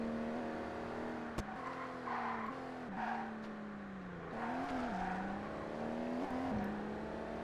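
A damaged race car engine in ToCA Race Driver 2 drones steadily with a wavering pitch that dips and rises as the car corners, with a few sharp clicks and faint tire noise over it.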